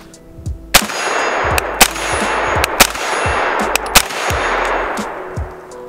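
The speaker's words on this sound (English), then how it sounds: "let's see how it does shooting it as an actual pistol" A CZ Scorpion Evo 3 S1 pistol fires about half a dozen sharp shots at irregular intervals on an outdoor range, each crack followed by a ringing metallic clang.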